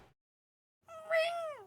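A voice imitates a deer call with a single drawn-out, nasal, meow-like cry that rises and then falls away, heard alone at close range after a brief silence.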